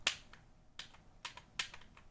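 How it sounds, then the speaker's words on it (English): A loose GMK Laser keycap on the E key of a SteelSeries Apex Pro keyboard gives sharp, close snapping clicks, four quick crisp snaps spaced evenly with a faint tail after each, alone in a quiet room. "the E key has some serious issues and makes a snapping noise when you press it a certain way"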